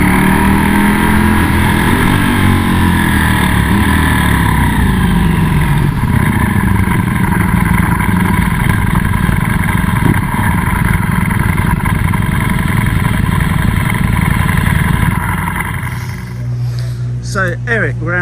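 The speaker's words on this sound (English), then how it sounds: "let you ride his new Multistrada V4S on some of the best biking roads in the world" A Ducati Multistrada V4S motorcycle rides along scenic biking roads, its engine a loud continuous roar that climbs and falls in pitch with wind noise, easing off in the final seconds.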